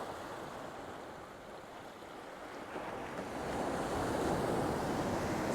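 Sea waves wash up on a shore in a steady, soft rush of surf, swelling slightly louder toward the end, with some wind noise and no voices.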